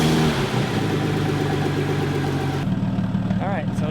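A car engine with a faulty, damaged ECU runs at a steady idle close by. Its tone shifts partway through, and a person speaks over it near the end.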